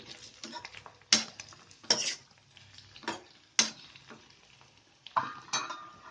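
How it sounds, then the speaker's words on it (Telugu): Bitter gourd fries in a pan while a spoon stirs it, giving repeated sharp metallic scrapes and clinks at irregular intervals over a low, steady sizzle, close and fairly loud. "కాకర బాగా వేగిన తర్వాత ఒకసారి తిప్పి"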